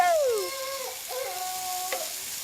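Onion and garlic sizzle in a frying pan, a steady close hiss with a whistling tone sliding down at the start and faint stirring clinks.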